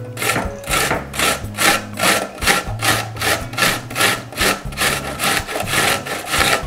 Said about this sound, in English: I will use a grater to shred well. I don't like the mixer that reduces everything to a cream. I chop a white onion.